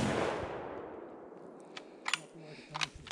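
A single rifle shot cracks out at the start of an elk hunt, the loud blast decaying into a long fading rumble, followed by a few faint clicks and quiet voices.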